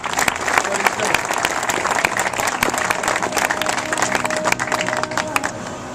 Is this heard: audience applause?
yes